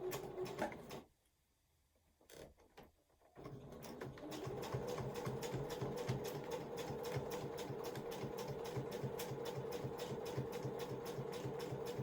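A sewing machine stitches through a bulky hipster bag, running steadily with a rapid, even needle rhythm after a brief pause near the start, close and clear with no talking.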